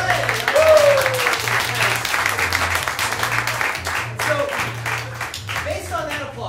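Improv comedy show audience breaks into strong applause with scattered cheers, loudest near the start and holding steady across several seconds, with faint voices mixed into the crowd noise.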